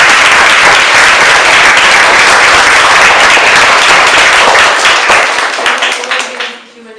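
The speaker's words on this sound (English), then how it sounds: "I want to give you all a round of applause." An audience at a gallery talk breaks into a loud, sustained round of applause that fills the room, then tapers off and fades near the end.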